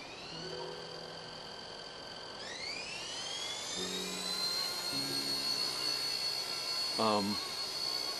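A helicopter's turbine whine climbs steadily in pitch as the throttle opens for takeoff, a sustained high droning tone with a brief mechanical chirp near the end, heard from inside at moderate level.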